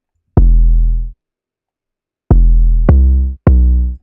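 Saturated 808 bass hits, fuller and harmonically richer, play as four loud booming notes, one alone followed by a quick run of three, each decaying cleanly into silence.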